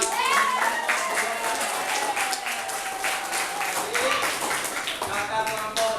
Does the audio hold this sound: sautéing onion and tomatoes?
no